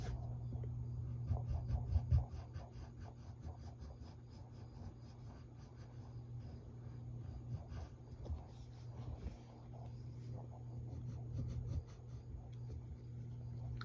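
Pencil sketching thin eyebrows on paper for a drawing of Ariel from The Little Mermaid, heard as soft, intermittent scratchy strokes under a steady low electrical hum.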